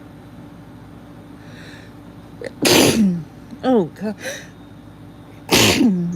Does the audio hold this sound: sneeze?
yes